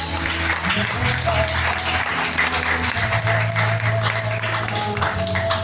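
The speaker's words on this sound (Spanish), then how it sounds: "¿Por qué no le das unas palmas a Cristo?" Church congregation clapping throughout a Spanish-language Christian service, steady dense applause that fills the whole stretch at an even level, with faint voices underneath.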